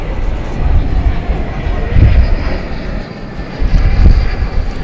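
An Airbus A321 airliner at DFW Airport at night rumbles loudly with a steady, surging engine roar, swelling and easing in waves as it passes, with no talking.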